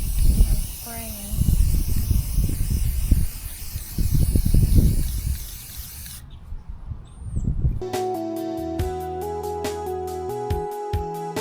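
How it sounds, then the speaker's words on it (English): Aerosol spray paint hisses in uneven bursts while repainting a yard art rooster outdoors on a windy day, the close spraying loud for several seconds before stopping and giving way to music. "I'm spraying."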